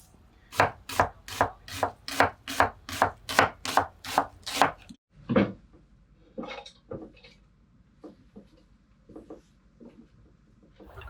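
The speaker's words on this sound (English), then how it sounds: "I'm chopping up this onion and get it to soften up a little bit for later" A knife chops an onion rapidly on a cutting board in a steady run of about ten strokes, followed by scattered softer cuts and kitchen clatter aboard a Seawind 1600 boat.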